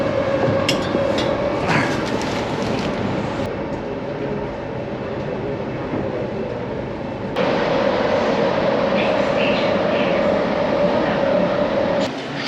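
An air-conditioned metro train in India rumbles and hums steadily for several seconds, with a brief quieter stretch in the middle before the drone swells again.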